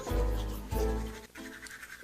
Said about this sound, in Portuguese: O camelo escovava os dentes com a torneira fechada.